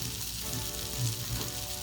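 Butter and vegetable oil sizzle in a pan for vegetarian shakshuka, a faint, even frying hiss throughout, with no talk.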